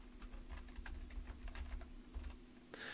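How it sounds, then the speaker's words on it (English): Quiet, close computer-keyboard typing, a quick run of light irregular key clicks over a faint steady hum, with a brief louder noise near the end. "Just going to type over here and type in Jason Fish,"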